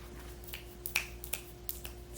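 Crisp finger snaps, about half a dozen spaced unevenly and heard close and clear over a quiet hum, with no talking.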